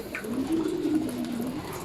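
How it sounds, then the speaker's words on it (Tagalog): Pigeons give a single soft, drawn-out coo lasting under two seconds, close and alone over faint background noise. "ando na ang ating mga ibon"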